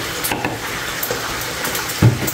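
Vinegar poured into a pan of fried pork belly crackles and sizzles steadily at close range, with a brief louder hiss burst near the end and no talking.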